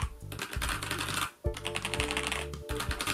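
Typing on a FILCO Majestouch mechanical keyboard, lubed and fitted with heavier keycaps, producing dense, close clacking keystrokes in quick bursts with one brief pause midway.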